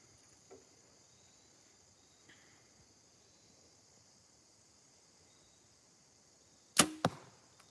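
An arrow loosed from a bow strikes a target with a single sharp crack near the end, after a long stretch of quiet outdoor ambience full of steady insect chirping, on a farm.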